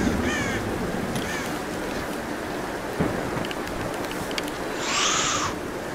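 Video game crow cawing in short, harsh bursts over a steady rain and storm ambience, a couple of calls early and a louder one near the end, with no talk.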